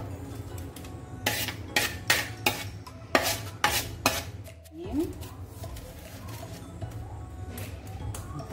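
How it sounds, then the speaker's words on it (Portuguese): A zucchini mixture is poured and spread into a baking tray lined with parchment paper, giving soft scraping, wet shuffling and a few sharp utensil scrapes against the pan, with a low background hum throughout. "E vou despejar aqui a nossa abobrinha."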